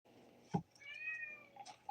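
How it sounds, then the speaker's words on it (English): A house cat meows clearly in the foreground, one drawn-out rising and falling cry lasting nearly a second, set off by a brief thump just before and a few soft clicks after in an otherwise quiet room. "Mystic Moons readings has lots of cat meows."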